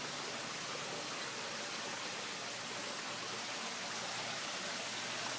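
Water from a hydroponic strawberry wall spills down a pondless waterfall over river stones, a steady, close, even rush and splash that holds unbroken from start to finish with no voices.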